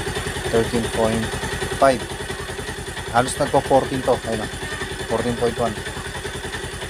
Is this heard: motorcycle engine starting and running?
yes